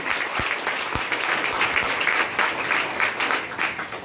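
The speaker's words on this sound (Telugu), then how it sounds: "చప్పట్లు కొట్టండి గట్టిగా." A church congregation at a Sunday service claps loudly and steadily in a dense, continuous burst of applause that fills the room, with no speech over it.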